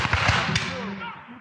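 Musket volley at a Battle of Camden reenactment, a few close sharp cracks in quick succession trailing into an echoing rumble, with voices in the background.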